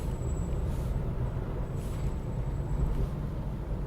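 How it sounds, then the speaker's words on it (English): A Scania lorry drives alongside, giving a steady low rumble and road roar just outside a quiet electric car, with faint higher tones over the hum and no one speaking. "The only noise you can hear is that Scania lorry alongside me."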